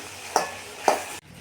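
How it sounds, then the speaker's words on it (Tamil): Two quick scraping stirs of dry chicken fry in a hot pan, each a sharp swish over a soft, steady sizzle. "மிளகுத்தூள் போட்டு எல்லாத்தையும் நல்லா கலந்து விட்டுக்கலாம்"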